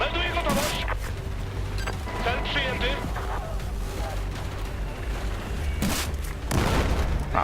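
Gunshots aimed at helicopters in Battlefield 4, a few heavy booming shots, one early and a pair near the end, over continuous combat rumble while people talk.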